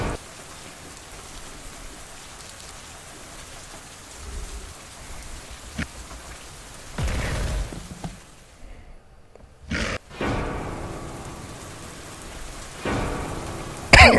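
Heavy rain pouring down as a sound effect in a dramatized story, a continuous hiss of drops with brief louder swells and a short dropout partway through, no speech.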